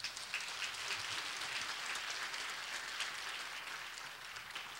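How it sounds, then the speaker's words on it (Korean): Applause fills a small noodle restaurant, a steady patter of clapping from several people that stays fairly even for a few seconds before easing slightly, with no talking. "박수 한번 하세요"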